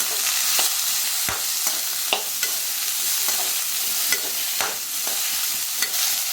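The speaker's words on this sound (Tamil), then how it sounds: "இப்போ காலிஃப்ளவரை சேர்த்துடலாம். இதில் மஞ்சள் தூள் சேர்த்துட்டு நல்லா கலந்துக்கலாம்." Cauliflower with turmeric and cumin is stirred in a hot pan with spices, a close, steady sizzle broken by repeated sharp scrapes and clacks of the spatula at an uneven rhythm.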